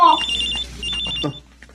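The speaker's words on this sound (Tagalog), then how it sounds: "May nagre-ring na cellphone." A cellphone sitting on top of a refrigerator rings with a bright electronic tone in short repeated pulses, loud and close, fading out near the end.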